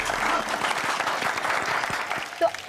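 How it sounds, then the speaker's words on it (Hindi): A seated audience applauds warmly to welcome a couple on stage, steady clapping from many hands for a few seconds, with faint voices mixed in. "इनके लिए भी जोरदार तालियां"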